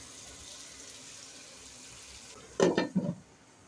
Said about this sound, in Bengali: দিয়ে দিব গরম পানি।